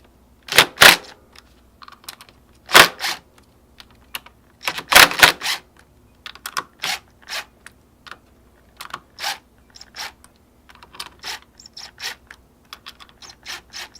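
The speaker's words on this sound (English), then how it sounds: "you want to release the pressure evenly on these 3 bolts here" A wrench works on the clutch pressure plate bolts of a Honda Grom MSX125, making a run of sharp metallic clicks and ratcheting ticks in uneven bursts over near silence, some louder clusters early on, with no speech.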